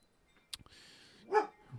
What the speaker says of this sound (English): she's still wanting to bark at people out front